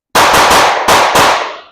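Rapid pistol shots fired in a quick string during a shooting drill, sharp loud cracks running together with little gap between them, no talking.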